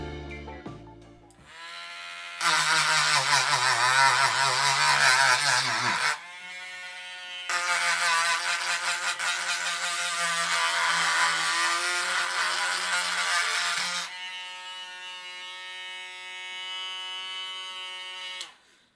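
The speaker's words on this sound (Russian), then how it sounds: "В этом тесте я попробую повредить стекло абразивным шлифовальным камнем." A micro drill at high speed drives an abrasive grinding stone against the glass of a Garmin Fenix watch, a loud high-pitched whine in two long bursts with a short gap, then a quieter spin-down tone.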